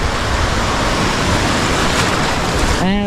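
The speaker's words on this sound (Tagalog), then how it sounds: "Oh, lakas ng alon." Strong ocean waves at Lingayen Gulf beach roar as a loud, dense, continuous wash of surf, with a voice briefly heard at the very end.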